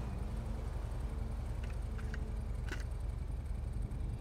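A heavy motorbike engine in GTA V holds a steady, low droning rumble at close range for the whole stretch, with a few faint clicks and chirps over it.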